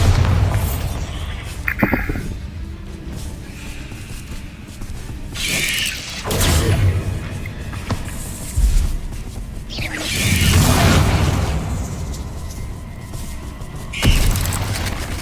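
Spell blasts in Hogwarts Legacy on PC, fired during a duel trial: several loud booming bursts with sharp pops and squeals recur every few seconds over a rumbling battle background.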